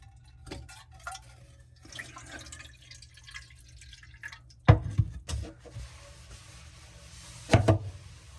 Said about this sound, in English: You're gonna want a bowl or something to catch the water that comes out.